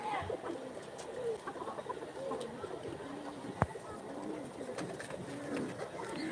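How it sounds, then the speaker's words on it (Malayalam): Caged pigeons of several fancy breeds, including pouters, coo softly and repeatedly in a bird enclosure. Faint chatter and a single sharp knock sound nearby. "എല്ലാ തരം പ്രാവുകളുണ്ടാവും എല്ലാ മോഡലും ഉണ്ട്"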